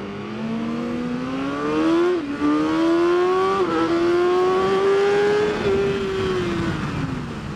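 Superbikes accelerate hard from a manual launch at Mission Raceway, one close engine note climbing steadily through a few gear shifts with brief dips, loud and sustained.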